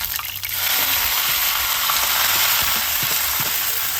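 Steady, loud sizzling of spices frying in hot oil for a tempering over a wood-fired stove, a continuous crackling hiss with a few small clinks, no voices.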